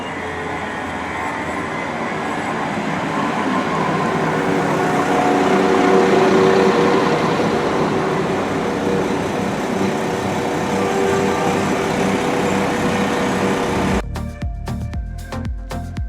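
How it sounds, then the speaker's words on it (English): A train arriving at a station rumbles steadily with rising and falling engine and wheel noise, loud and close, before the sound cuts out abruptly near the end. "So my train to Olton should be arriving now"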